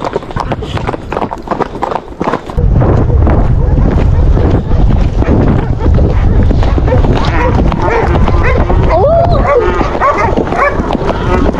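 Rhythmic hoof clip-clop from a horse moving along during steer roping, with rushing wind noise and people talking over it.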